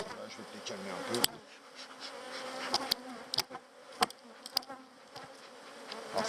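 Honeybees buzz at an opened hive full of brood, a steady close hum with individual bees zipping past and occasional sharp clicks and knocks.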